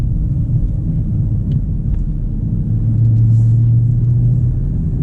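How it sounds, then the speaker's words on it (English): A 2019 Ram 2500 pickup with the 6.4 engine and 8-speed automatic accelerates, heard from inside as a steady deep rumble that swells slightly partway through. "So we're coming up here right now so we can get a little bit of an acceleration."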